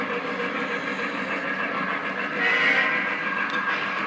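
A Conrail model train locomotive backs up on a layout, giving a steady mechanical rumble and faint rail clatter that swells briefly mid-way, with no voices.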